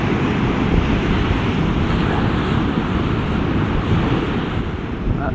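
River water pours out into the ocean surf as a steady, loud roar of breaking waves mixed with gusting wind buffeting the microphone, with no voices.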